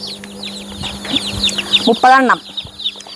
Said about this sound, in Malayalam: ഇന്നിപ്പോൾ ചേട്ടൻ കാലത്ത് തന്നെ പോയിട്ട് വാങ്ങിച്ചു കൊണ്ടുവന്ന കോഴിക്കുട്ടികൾ